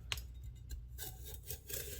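A knife slices salad vegetables into strips on a board, a few quiet crisp cuts spaced out over a low background hum, with no talking.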